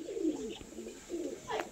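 Pigeons kept at a home loft coo in a few clear, rolling calls, close and fairly loud, with short pauses between the throaty phrases.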